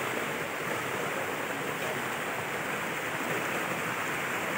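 A big waterfall in rural Quezon Province, Philippines, sends out a constant, dense roar of falling water that stays steady and loud from start to finish.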